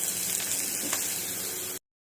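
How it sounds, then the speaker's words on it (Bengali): Fish frying lightly in a pan with vegetables added alongside gives a steady, close sizzle that runs evenly for under two seconds and then cuts to silence. "এখানে মাছটা যেরকম ভাজা হচ্ছে হতে থাকুক, তার পাশ দিয়ে আমি একবারে সবজিগুলোও দিয়ে দেবো।"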